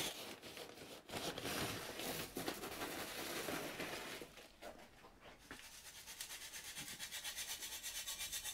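Gardening grit being worked into seed compost for sowing cucumbers and summer squash: a continuous, close rough rubbing and gritty scraping with rhythmic strokes, growing more regular toward the end.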